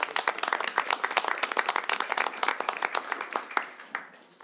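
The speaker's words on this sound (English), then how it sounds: "One more round of applause, please." Applause at a city council meeting: a small crowd claps in a dense, crackling burst that tapers off toward the end, fairly close, with no talk over it.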